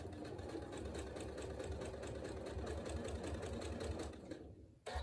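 Sewing machine stitching a quarter-inch seam joining a fabric centre square for a log cabin quilt table runner, a steady rapid mechanical chatter running continuously and fairly loud, stopping abruptly near the end.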